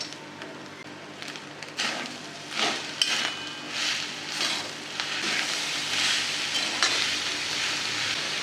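Jaggery stirred into a pan of coconut filling, with a continuous sizzle and several sharp scraping, knocking stirs against the pan at irregular intervals.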